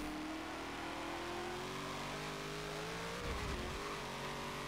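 A Gen 3 Supercar racing at Le Mans, its engine droning steadily at a distance with rising revs, then a brief rougher burst of noise near the end, with no talk.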